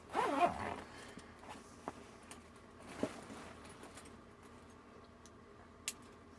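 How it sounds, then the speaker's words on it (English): A zipper on a bug-out bag is pulled in one quick, close rasp at the start, followed by a few faint clicks and taps in an otherwise quiet room. "This zips up both sides."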